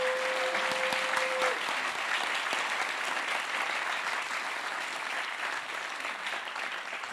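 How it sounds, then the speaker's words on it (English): A large audience at a state House candidates' debate claps continuously in dense, sustained applause that stays loud and steady throughout, with a brief tone sounding near the start. "giving the candidates for a round of applause thus far"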